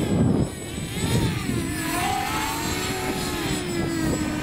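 A Walkera Furious 320 GPS drone flying fast: a whining propeller buzz with pitch sweeping up and down as it passes, moderately near, over a windy rumble.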